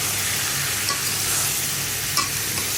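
Dried churi fish curry with beans, potato and eggplant being stirred in a pan, a steady loud sizzle with a couple of sharper scrapes of the spoon against the metal.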